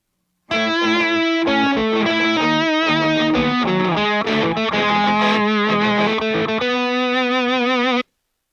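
Three layered electric guitars through a Fractal Axe-Fx II XL processor, with heavy distortion and effects, play a thick, sustained melodic passage, loud and continuous, then stop abruptly.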